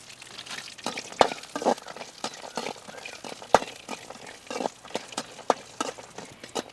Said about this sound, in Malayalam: നെയ്യ് ചൂടായിട്ടുണ്ട്. നമുക്കിതാ ഈ അണ്ടിപ്പരിപ്പൊന്ന് ഇതിലിട്ട് കൊടുക്കാം.